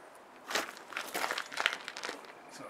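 Knife slicing through a length of split rubber water heater hose, a series of soft crunchy cuts and crinkles, close and fairly quiet with no talk.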